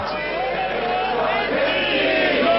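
An Argentine crowd cheers General Galtieri, head of the military junta, in 1982: a dense, sustained roar of many voices that swells slightly toward the end.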